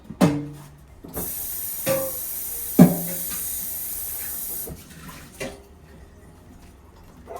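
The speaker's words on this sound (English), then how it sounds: "So let me go ahead and get it rinsed out." Running water hisses steadily into a small roaster pan as it is rinsed out, with a few metallic knocks and clanks of the pan close by before the water cuts off and faint handling sounds remain.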